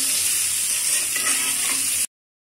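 Pieces of hog plum, marinated for a sour-sweet pickle, fry in oil over a low flame with a steady, close hiss that cuts off abruptly after two seconds.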